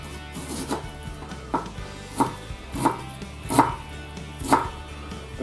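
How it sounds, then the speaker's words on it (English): A knife cutting shallots in half on a board, with about six or seven distinct, evenly spaced chops, close and clear, with no voices. "Our shallots. Cut them in half."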